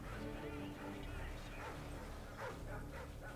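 Dogs bark and yip in the video game Modern Warfare 2, repeated, close, urgent barks over busy in-game noise, with players' voices talking over them.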